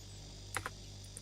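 Two quick keystrokes clack on a computer keyboard, faint against a steady electrical hum.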